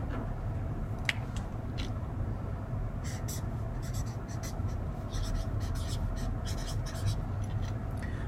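A pen or pencil scratches across paper while variables for a math lesson are written down, a run of soft, rapid strokes in bursts over a steady background hiss.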